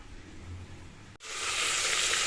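A soft hiss gives way to a louder, steady sizzling after a brief pause, like oil crackling in a hot pot up close, heated for tempering mustard seeds for sambar.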